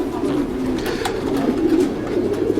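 A racing pigeon coos softly and close by, its low throaty, warbling calls running continuously over a faint background hum.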